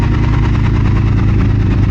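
Triumph Speed Twin 2022 motorcycle with an X pipe exhaust, its twin engine running steadily with a loud, throbbing low rumble at held revs, close by and with no speech.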